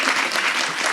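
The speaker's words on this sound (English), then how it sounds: "So there's a round of applause here for the Pre-Law Institute." A crowd applauds the Pre-Law Institute at an Office of the Attorney General event: dense, steady clapping, close and loud, filling the whole second without a break.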